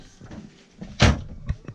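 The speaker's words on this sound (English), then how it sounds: "This drawer, everybody's got to have one." A storage drawer in a 2017 Roadtrek Adventurous CS 4x4 camper van opens with soft sliding rumbles, then a single sharp knock as it stops, followed by a smaller bump; close and brief.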